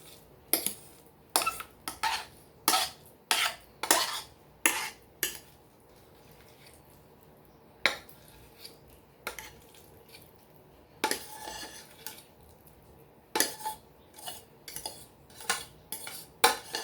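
A utensil scrapes and taps against a dish, spreading a mashed potato crust over a shepherd's pie filling, with bursts of clinking strokes in uneven runs, close and fairly loud, separated by quieter gaps.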